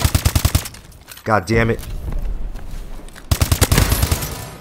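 Rapid bursts of automatic gunfire crackle in a Call of Duty Advanced Warfare team deathmatch, two volleys framing a short pause, with a player's voice breaking in between.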